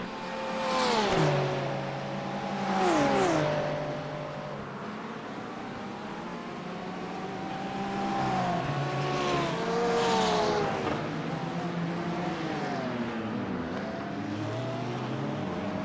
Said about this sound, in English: Acura versus Porsche.